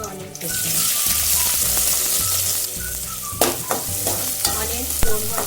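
Onions and green chillies frying in oil for leg soup, a continuous sizzle broken by several stirring scrapes and clinks, with a brief burst of running tap water, no voices.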